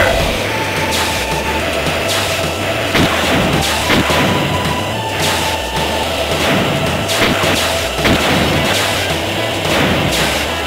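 Boost firing during an F-Zero: GP Legend race on Wreckage Circuit, a steady loud roar of racing machines punctuated by repeated punchy thrusts and whooshing bursts, with no voices.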